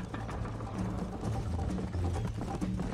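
Horse hooves clip-clop in a steady rhythm in Red Dead Redemption, fairly faint and continuous under a dense wash of ambient game sound.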